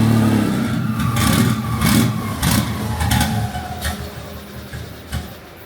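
A big single-turbo VQ37HR engine in a Nissan Patrol drift build, with its O2 sensors unplugged, revs in several quick throttle blips over a rough idle, each rev rising then falling, close and loud with no talking.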